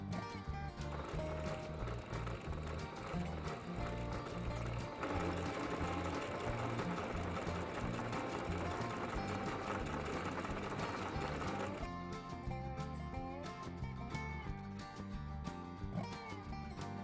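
A sewing machine runs a continuous top-stitch line along the edge of a fabric baking dish cover, its steady rhythmic whirring mixed under background music for the whole stretch.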